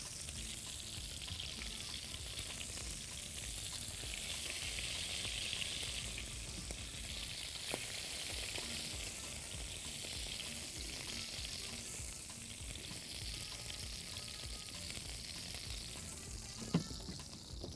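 Kofta fries in hot fat with a steady, close crackling sizzle that never stops, broken now and then by a faint stir or scrape, and no voices.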